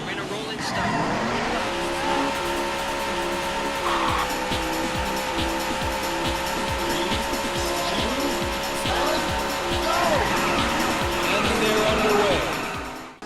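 In the Daytona USA racing game on Sega Saturn, race car engines drone continuously while tires squeal repeatedly through turns, with a synthetic music bed running underneath throughout.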